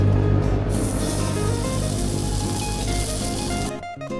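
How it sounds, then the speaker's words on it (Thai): Oil sizzles steadily on a Thai moo kratha grill pan, a loud, close and continuous hiss that cuts off sharply near the end. "เสียงฉ่าของการสุกเสียงฉ่าของน้ำมันกระทบกับกระทะ"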